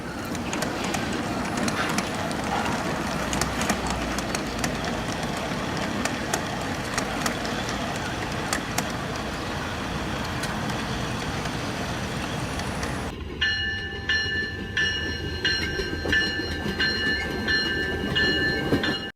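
A small train built for a pet cat runs along its track with a continuous rolling rumble and faint clickety-clack, then the sound cuts to a quieter, thinner texture near the end.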